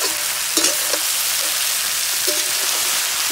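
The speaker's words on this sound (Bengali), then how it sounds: "এবার এগুলোকে একসাথে ভালো করে একটু ভেজে নিতে হবে।" Broccoli and cauliflower fry in a pan with a steady, fairly loud sizzle. A few utensil scrapes and stirs break through the sizzle, and nobody speaks.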